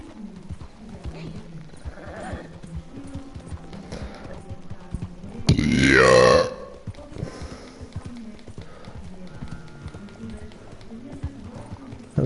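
Hooves clip-clop steadily as a horse moves along in Red Dead Redemption 2, with a brief louder burst of game sound midway and a voice speaking over the hoofbeats.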